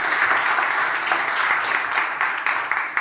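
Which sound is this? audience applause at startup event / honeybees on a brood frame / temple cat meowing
audience applause at startup event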